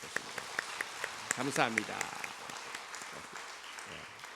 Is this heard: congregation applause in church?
yes